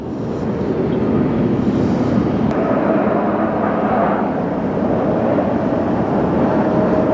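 A United Airlines jet at LAX gives a loud, continuous broadband roar that holds steady throughout, close and unbroken, with no voices over it.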